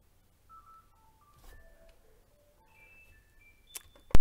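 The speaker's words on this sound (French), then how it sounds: "vous venez d'entendre ma magnifique sonnerie de téléphone" A mobile phone ringtone plays indoors during a scrapbooking craft session: a faint electronic melody of short beeping notes that steps up and down in pitch, followed by a couple of sharp clicks and a louder knock at the end.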